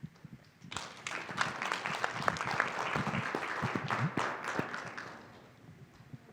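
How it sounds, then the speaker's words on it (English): Applause for breakout groups at a symposium on race and mental health, a steady round of clapping from an audience that swells after a quiet start, holds for several seconds, then tapers off. "Let's give another round of applause for all the breakout groups"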